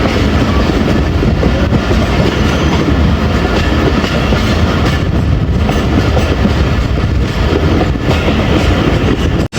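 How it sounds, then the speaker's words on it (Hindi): An express train rolls loudly along the rails nearby approaching Rawalpindi station, with a continuous rumble and rhythmic clickety-clack from the wheels that never lets up. "हमारी 48 डाउन रहमान बाबा एक्सप्रेस रावलपिंडी रेलवे स्टेशन पे अप्रोच बना रही है"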